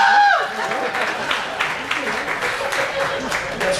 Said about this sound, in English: Got some people clapping.